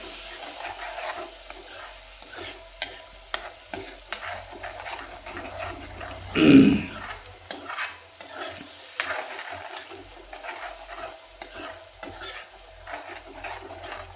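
Onion, garlic, ginger and tomato masala fries in a pan for a black chickpea curry, a steady low sizzle with frequent scraping stirs and light utensil clinks against the pot.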